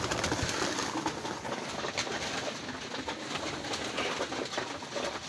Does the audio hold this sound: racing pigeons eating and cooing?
yes